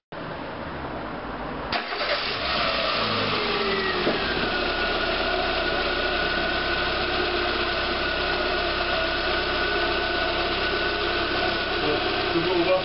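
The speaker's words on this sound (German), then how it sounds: "Wir lassen den Motor nochmal warm laufen" A Peugeot 206 car engine starts up and settles into a steady, continuous idle with a constant mechanical hum while warming up after a water pump replacement.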